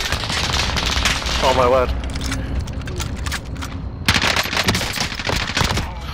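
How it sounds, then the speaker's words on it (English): Rapid gunfire rattles away, loud and close, in sustained bursts that keep firing until the ammunition runs out, with an excited voice exclaiming briefly in the middle. "Oh, that was my last bullet."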